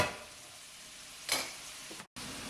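Scallops searing in a hot pan, a steady soft sizzle with a brief louder crackle and a short cut near the end.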